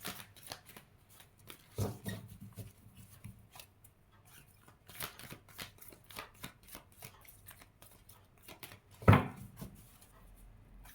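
Tarot cards shuffled by hand close up: a run of quick papery riffles and soft slaps in uneven bursts, with one sharp louder snap near the end.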